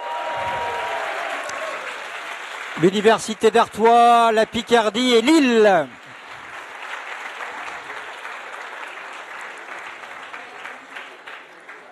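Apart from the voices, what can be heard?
audience applause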